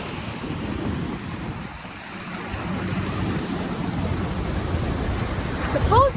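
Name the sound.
boat's waves on the sea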